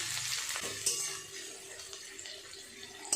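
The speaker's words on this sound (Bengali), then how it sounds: "পেঁয়াজটা একটু নেড়ে চেড়ে ব্রাউন কালার করে নেব" Chopped onion frying in oil with a bay leaf in a pan and stirred until browned, for a chicken curry. A steady, fairly loud sizzle runs throughout, with occasional scrapes and clinks from the stirring.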